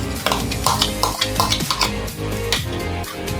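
Spoon scraping and clinking against a bowl while yogurt is stirred into eggless brownie batter, quick repeated strokes with bright metallic taps, close and alone.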